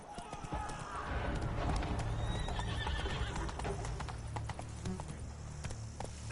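Roach the horse gallops in a video game, drumming hooves underneath a loud whinny early on, with further brief neighs over the running rhythm.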